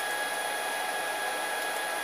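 A 6040 CNC machine's upgraded spindle motor spinning at 250 RPM gives a steady, even whir with a faint high tonal whine, continuous and close with no change in level.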